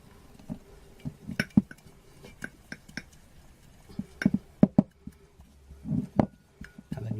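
Glitter is stirred inside a glass jar, producing a scattered series of light clinks and taps of varying loudness, close by and with no one talking.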